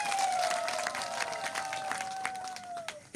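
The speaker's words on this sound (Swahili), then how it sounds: "Jipigieni makofi mengi sana." A crowd at an outdoor campaign event in Imalinyi claps together, a dense ongoing patter of applause with a steady tonal whine running over it, ending in a brief bump.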